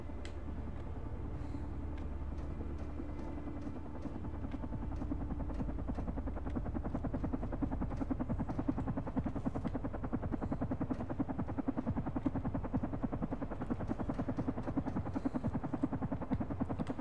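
A helicopter in the video game Carrion gives a steady, close, rhythmic rotor chop over a low engine drone. The sound holds evenly and grows slightly more pronounced across the long stretch, and no voices are heard.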